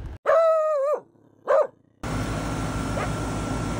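A dog lets out two loud, drawn-out barks near an outdoor AC unit, followed by the unit's steady mechanical whirr.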